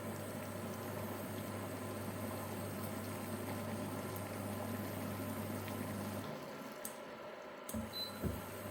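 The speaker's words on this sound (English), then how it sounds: "the water's already at boiling temperature, so it's going to start boiling straight away" Steady bubbling and rumbling of water coming to a boil on a portable induction cooker over a low hum, which cuts out near the end, leaving a few faint clicks.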